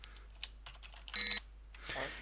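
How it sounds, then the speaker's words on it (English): A high-pitched electronic beep pulses from a wrecked hovercraft in the Space Quest 2 video game, one bright tonal burst of about a quarter second, heard alone amid faint quiet game sounds. "You hear a high-pitched beep. It seems to be emanating from the wrecked hovercraft."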